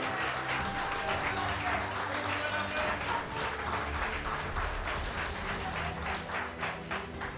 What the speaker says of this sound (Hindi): एक बार जोरदार तालियां करें इस बात को जूम के लिए